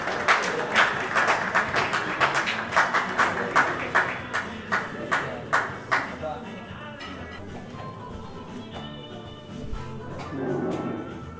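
Audience applause at a semikha ordination ceremony for a yeshiva's graduating rabbis: sustained dense clapping with strong individual claps for about six seconds, then thinning into scattered claps and room murmur.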